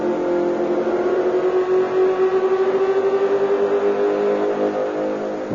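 A Formula One car engine, a Ferrari, drones steadily at high revs with a slight rise and fall in pitch, loud and continuous with no voices.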